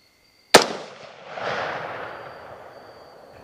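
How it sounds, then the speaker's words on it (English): A single sharp, loud 6.5 Creedmoor rifle shot with a Berger VLDh bullet is fired at a boar in high grass, followed by a long rolling echo that fades over a few seconds outdoors. "This has to be my farthest shot to date using this bullet."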